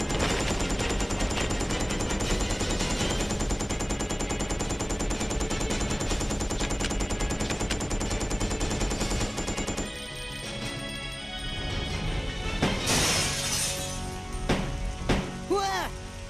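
Rapid automatic gunfire rattles in the survival-horror game Resident Evil Code Veronica, a dense, loud burst that runs steadily before giving way to game sounds and a voice near the end.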